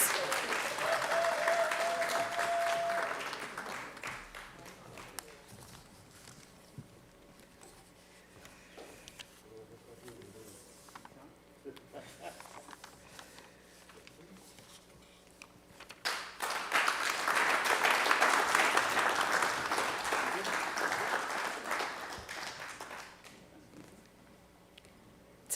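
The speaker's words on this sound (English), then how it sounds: "Let's give the Central Region another round of applause." Audience applause at a graduation ceremony, sustained clapping that tapers into a quieter lull and then swells again into a second loud round, with a brief whistle-like tone early on.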